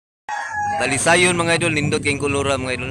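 A rooster crows loudly and close by at a Monday chicken market in Carbon, Cebu, one long drawn-out cock-a-doodle-doo over busy market chatter, with someone speaking through it.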